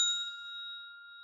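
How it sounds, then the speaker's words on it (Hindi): A doorbell gives a single clear electronic ding that rings out and sustains evenly, quiet and alone with no other sound. "दूसरे दिन मैंने दरवाजे की घंटी बजा दी है।"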